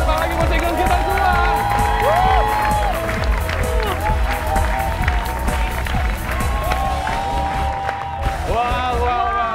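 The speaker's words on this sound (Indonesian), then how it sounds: "tepuk tangan lagi buat singles kita semua!" Studio audience at an Indonesian dating show claps and cheers loudly for the singles coming out, a dense steady wash of applause and whoops with voices over it throughout.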